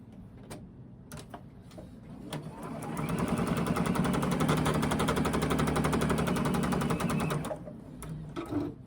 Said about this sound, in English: we're gonna take those pins out so we can sew this together.